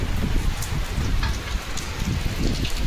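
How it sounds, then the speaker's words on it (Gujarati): Steady rain falls continuously, a dense hiss of drops hitting surfaces nearby with no break. "ફાઇનલી મિત્રો વરસાદ આવી ગયો છે પાછું"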